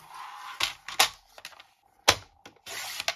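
Paper being trimmed for a scrapbook album, a few sharp close clicks and slicing strokes separated by quiet gaps, with a short hissy stretch at the end.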